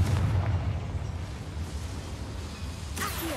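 A Confringo blasting spell in Hogwarts Legacy lets off a deep booming explosion that rumbles and fades over a few seconds, with a sharp crack near the end.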